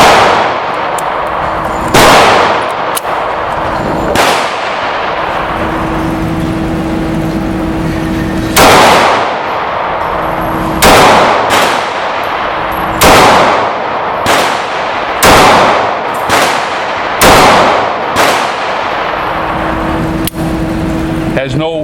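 Repeated shots from a Diamondback DB9 9mm pistol firing 115 grain full metal jacket rounds, about a dozen loud close cracks at irregular intervals, some in quick pairs, with a low hum between them.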